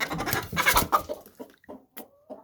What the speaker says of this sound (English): But we have a chicken down there.